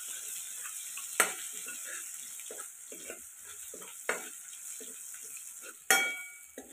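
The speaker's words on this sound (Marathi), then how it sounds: "वाटण बनवलेलं लसूण कोथिंबीरीचं छान आपल्याला तेलामध्ये मस्त तळून घ्यायचं।" Garlic and coriander paste fries in hot oil with a soft continuous sizzle, broken by a few sharp scraping clinks of a spoon stirring the pan, close and without talk.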